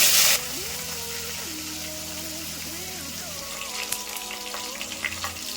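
Mustard seeds, cumin and curry leaves sizzling in hot oil for a raw tomato gojju, a steady close hiss of frying with scattered pops and crackles, under a faint tonal background.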